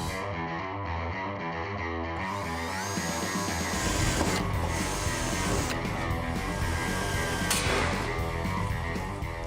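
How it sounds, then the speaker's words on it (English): A drill bores a 1/8 inch pilot hole in the body metal of a 1970 Dodge Challenger, a steady whining drone that builds into a louder, rougher grind partway through and runs close and continuous. "I'm going to start with an 1/8" pilot hole, followed by a 3/8 bit, large enough to do some plug welding and get this thing in place."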